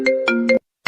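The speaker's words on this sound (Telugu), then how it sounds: "గిది ఫోన్ చేస్తుందేంటి?" A mobile phone ringtone signals an incoming call with three quick, evenly spaced tonal chimes, loud and close, then a short pause before the pattern starts again.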